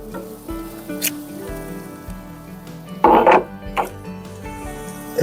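A spoon stirs chili with canned beans and onion in a pot, giving soft scraping and clinking with a louder clatter of utensil against the pot partway through, close by and without talk.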